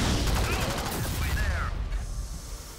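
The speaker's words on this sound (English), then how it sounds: "He's shooting us." Enemy gunfire in the sci-fi shooter Alien Swarm: Reactive Drop crackles in a rapid, loud burst through the first half, then thins out; shouting voices overlap the shots.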